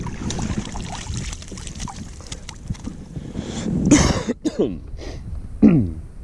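A few harsh coughs break through near the end over steady outdoor wind and water noise while flounder fishing, close to the listener, with no speech.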